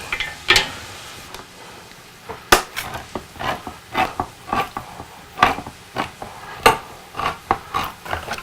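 A spoon scrapes and clacks against a pan as Italian meatballs are stirred, with irregular sharp knocks and scrapes repeating throughout over a faint background sizzle.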